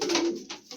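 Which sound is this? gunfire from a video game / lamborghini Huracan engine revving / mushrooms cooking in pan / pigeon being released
pigeon being released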